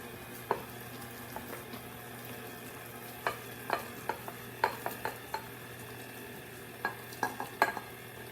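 A spoon works through pumpkin chocolate chip bread batter in a bowl, giving quiet, scattered clinks and taps against the side over a soft background, with no one talking.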